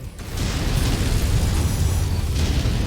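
A BattleMech blows apart in Mechwarrior 5: Heroes of the Inner Sphere, a loud, sustained explosive roar that rumbles and crackles for several seconds with little talk over it.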